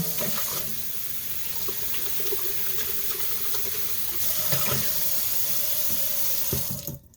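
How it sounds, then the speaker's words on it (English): Tap water runs steadily into a sink while a container used in soap making is rinsed out, a close broadband splash with small clunks and shifts in the flow, ending as the water stops. "this immediately goes into the sink and gets rinsed out"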